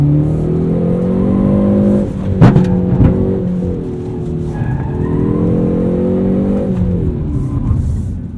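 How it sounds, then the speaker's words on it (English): A Hyundai Veloster N with the Performance Package accelerating hard, loud engine note climbing through gears with brief drops at shifts and a sharp tire chirp, close and alone. "This is the Hyundai Veloster Performance Package."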